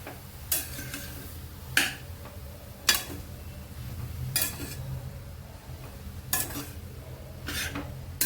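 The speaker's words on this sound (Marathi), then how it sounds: "तर थोडंसं तूप टाकलेलं आहे त्यामध्ये गाजराचं खीस घालून घेतलेलं आहे आता गाजराचा कलर चेंज होईपर्यंत आपल्याला छान असं भाजून घ्यायचं आहे" Grated carrot roasting in ghee in a kadhai for carrot halwa, with about six sharp scraping stirs of a spoon against the metal pan over a low, steady background hum.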